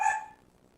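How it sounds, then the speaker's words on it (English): One short, sharp bark, fairly faint and a bit distant, fading into near silence. "My dog's going to start barking."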